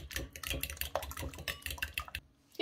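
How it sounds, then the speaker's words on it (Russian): Egg and sour cream are whisked together into a filling for baked liver, with quick clinking, scraping strokes of a utensil against a bowl that stay close and fairly soft, with no voice. "Все хорошо перемешиваю."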